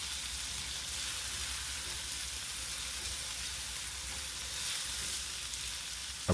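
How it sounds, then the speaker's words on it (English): Canned corned beef fries in a pan as it is stirred, a constant even sizzle at close range with a small clatter right at the end and no talking. "Continue stirring until it is done."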